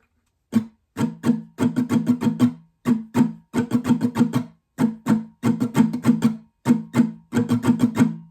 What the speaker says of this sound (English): Getting into the strumming now, there's just one pattern you'll need to learn